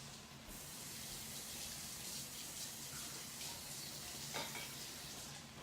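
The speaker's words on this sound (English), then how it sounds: "I find this is easier to clean if you rinse it out immediately." A pot is rinsed out under running tap water after cooking fajitas, a steady close hiss of flowing water filling the whole stretch with a faint clink near the end.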